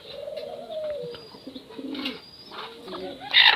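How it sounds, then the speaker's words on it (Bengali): A hen calling before laying eggs while being let out, giving a few soft, low cooing clucks in short uneven bursts, close by and fairly quiet, with a sharper chirp near the end. "এটা ডিম দেওয়ার জন্য ডাকাডাকি শুরু করছে অলরেডি"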